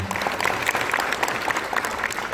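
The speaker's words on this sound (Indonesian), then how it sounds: "Tepuk tangan untuk adik-adik semuanya." Applause from an audience for students at a youth leadership festival event, a steady dense patter of clapping throughout, fairly close and alone without talk.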